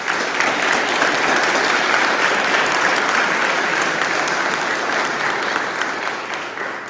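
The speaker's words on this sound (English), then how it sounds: "give them a round of applause" Audience applause for teachers at Sheboygan Lutheran's Honors Night, a full, steady wash of many hands clapping that holds strong before gradually tapering off at the end.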